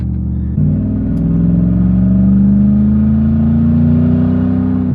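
A Lexus GX470 SUV engine with an aftermarket exhaust gives a deep, throaty rumble, idling then swelling slightly as revs rise, loud and close with a steady growl underneath.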